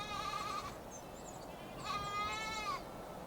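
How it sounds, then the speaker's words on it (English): Goat bleating in the Rodna Mountains, two drawn-out wavering bleats separated by a short pause, moderately distant and fairly faint against quiet outdoor background. "There, below the peak, is a goat, with a small kid born this year."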